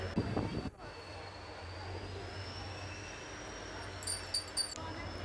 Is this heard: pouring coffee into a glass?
no